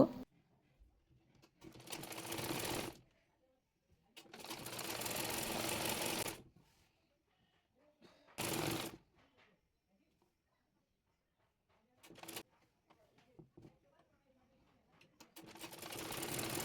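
An electric sewing machine stitches a palazzo salwar in several separate bursts of rapid whirring, each lasting one to two seconds, with quiet pauses between runs.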